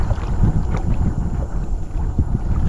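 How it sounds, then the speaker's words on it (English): Steady outdoor wind buffets the microphone throughout, a continuous low rumble with no talk, somewhere on a summer outing in the Pacific Northwest, Washington. "It's unfortunately a little windy, man."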